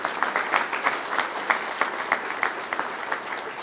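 A banquet audience at a touchdown club luncheon claps steadily for a few seconds, moderately loud applause with no voices over it.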